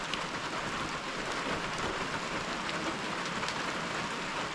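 Morning rain falls steadily on a cabin, a dense even hiss of drops on surfaces continuing without pause, fairly soft and with no voices.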